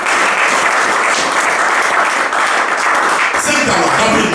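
A church congregation applauds and cheers loudly and continuously, with dense, steady clapping that fills the hall from start to finish.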